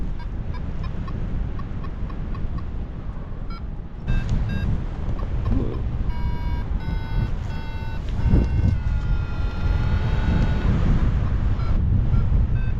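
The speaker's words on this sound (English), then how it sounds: "Yeah, wind's definitely coming from the west" Wind roars steadily across the microphone outdoors in a constant loud buffeting rush, with a few brief tonal beeps and bird-like calls breaking through and no voices.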